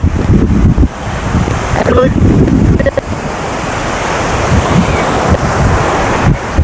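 Sea waves crash loudly on Marina Beach, a continuous roaring surf with heavy wind buffeting the microphone throughout and no voices.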